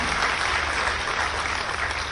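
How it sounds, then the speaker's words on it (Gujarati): An audience at a public development event breaks into applause for MLA JS Patel, a loud, dense clatter of clapping that fills the whole moment. "એકવાર જોરથી બંને માટે તાળી બોલાવો."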